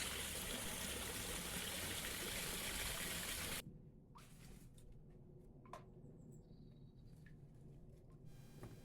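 Water from a garden waterfall pours into a pond as a loud, dense rush, then abruptly drops to a quieter, nearby trickle and splashing for the rest.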